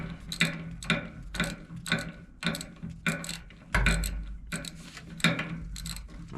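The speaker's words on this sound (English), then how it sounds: "But I'm gonna take the bolts out of it. And the bottom one is 5/8." A ratchet wrench loosens 5/8 bolts on a wood boiler pump, giving a steady series of about a dozen rhythmic ratcheting strokes, each a close, bright burst of rapid pawl clicks with a metallic clunk beneath.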